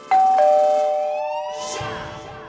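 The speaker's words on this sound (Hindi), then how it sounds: "घंटी बजी" A household doorbell rings with two bright chime tones, a ding-dong that rings out and slowly decays, loud and close with no speech.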